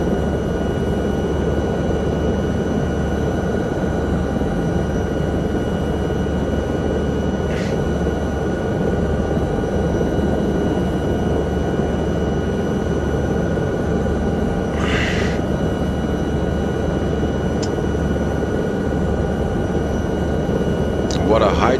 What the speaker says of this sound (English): So easy to overspeed this helicopter.